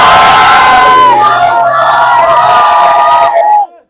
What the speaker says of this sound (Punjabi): ਇੱਕ ਜਕਾਰਾ ਲਾ ਦਿਓ ਜਕਾਰਾ ਲਾ ਦਿਓ ਇੱਕ ਬੋਲੇ ਸੋ ਨਿਹਾਲ